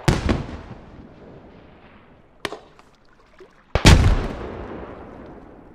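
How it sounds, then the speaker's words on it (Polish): Gunfire in the military shooter game Squad: a loud crack, a sharper lone shot a couple of seconds later, then a heavy blast with a trailing echo, with quiet gaps between. "Jak strzelają."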